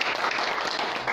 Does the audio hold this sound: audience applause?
yes